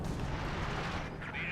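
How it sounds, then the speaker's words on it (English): Artillery guns firing in the World War II strategy game Company of Heroes 2, a dense, continuous rumble of booms and blasts filling the whole stretch with no pause. "with artillery guns opening fire"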